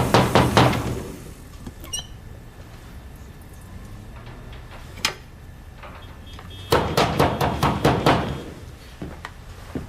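Sharp knocking on a door comes in insistent bursts, a rapid cluster at the start, scattered single raps in the middle, then a loud rapid series near the end, with no voices.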